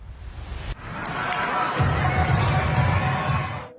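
Crowd at a basketball match in Indonesia, a dense roar of many voices cheering and shouting inside an arena, steady and loud after an abrupt start.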